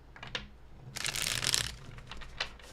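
A deck of tarot cards is riffle-shuffled in one crisp, rapid burst of flicking card edges, close by and fading into a few light taps.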